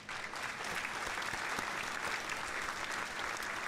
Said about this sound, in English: So I'll give you a round of applause.